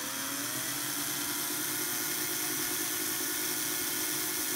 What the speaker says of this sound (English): The drill actually started. So what I'm going to do is I'm going to, while it's drilling, slowly straighten up on it